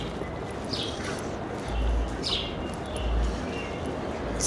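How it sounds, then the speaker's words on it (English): Birds chirp in short, thin bursts above steady outdoor background noise on a quiet late-afternoon street by a train station, with a few low rumbles passing underneath. "Hear the birds chirping."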